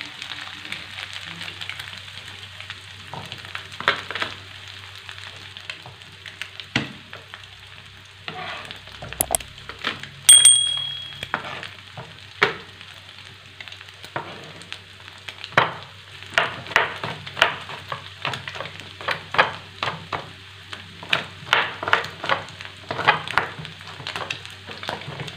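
An egg frying in a pan while cooking macaroni goreng, giving a steady crackling sizzle throughout, broken by occasional sharper clicks and pops, with no talk.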